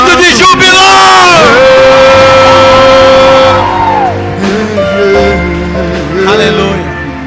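Church congregation at a Santa Ceia service shouting and whooping for joy, loud crowd cries rising and falling over several seconds in a reverberant hall.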